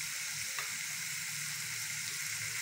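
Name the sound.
mutton liver frying with spices in a pan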